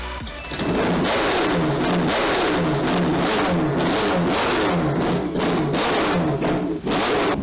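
A powerful V10 engine in a rear-wheel-drive Lincoln Continental revs hard and loud, pitch rising and falling in repeated surges, close up with a raw, rasping exhaust note.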